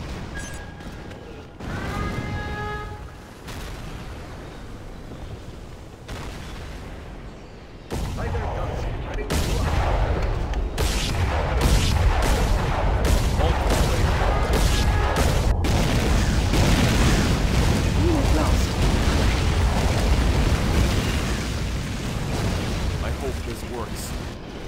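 Artillery barrage in the real-time strategy game C&C: Generals Zero Hour, a rapid string of heavy booming blasts building into a continuous, loud roar of overlapping detonations, with brief unit voice lines early on.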